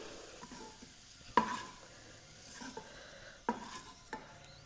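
Raisins fry in a small amount of ghee with a soft sizzle, stirred by a spoon that clinks against the pan now and then, close and quiet with no talking.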